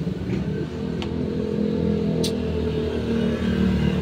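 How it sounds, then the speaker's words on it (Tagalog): Continuous engine drone of motorcycles and traffic passing on a roadside road nearby, with a couple of short sharp clanks. "Ingay ng mga motor"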